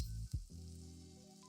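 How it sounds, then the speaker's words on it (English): Onions sautéing in oil in a pot for a vegetarian lasagna sauce, making a soft, close sizzle with a quick stir near the start, then a low steady hiss with no talking. "the sweetness from the onions that we're sauteing right now"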